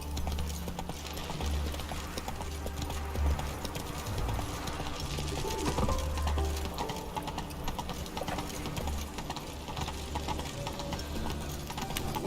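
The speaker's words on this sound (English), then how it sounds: "Run, Roach." Hooves of the horse Roach gallop in a steady clip-clop rhythm in The Witcher 3: Wild Hunt, running continuously and fairly close under a low game ambience, with no talk.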